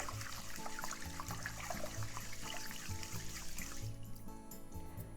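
Rice is stirred gently in a bowl of rinse water, giving soft continuous sloshing and trickling over a low steady hum, with no one talking.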